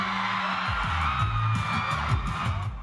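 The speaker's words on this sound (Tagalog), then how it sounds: "Halos hindi na magkarinigan dahil sa lakas ng hiyawan ng fans para i-welcome ang Thai superstar heartthrob na si Win Metawin sa mall na ito sa Makati" Fans of Thai star Win Metawin scream and whoop at a mall in Makati, a dense, loud crowd roar with shrill cheers sustained throughout.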